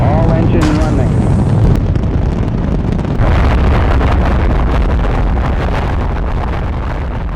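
Rocket engines roaring at liftoff, a loud continuous broadband rumble and crackle with heavy wind-like buffeting, steady throughout, with a voice briefly audible early on.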